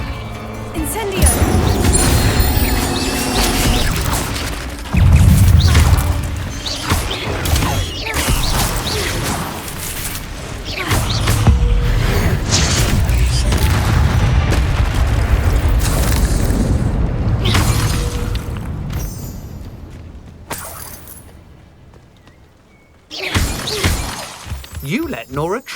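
Fire spells crackle and boom in the video game Hogwarts Legacy, loud and continuous through a battle with smashing impacts, while a voice shouts over the din before a brief lull and a final burst.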